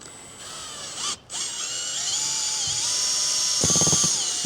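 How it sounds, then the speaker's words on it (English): A power drill fitted with an auger whirs at high pitch while mixing lawn fertilizer, dropping out briefly before spinning back up and running steadily with small changes in speed. "Get a power drill and an auger like this."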